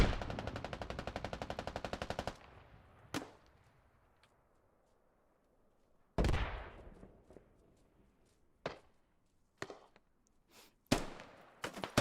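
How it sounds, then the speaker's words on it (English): In the video game Squad, suppressive gunfire opens with a rapid automatic burst for about two seconds. Sharp single and paired shots follow at irregular gaps, some with long decaying echoes, loud against near-silence between them. "They just overwhelm the defenders with suppressive fire."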